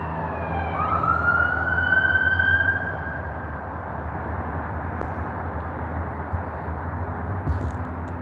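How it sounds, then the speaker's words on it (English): An ambulance siren rises and wails briefly over steady road rumble, then fades, leaving traffic noise droning on. "Meanwhile, there's an ambulance."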